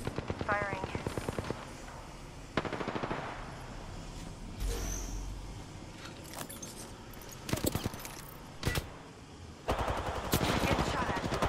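Rapid automatic gunfire in the battle royale video game Apex Legends, coming in several loud bursts of fast repeated shots with pauses between them and a few single shots.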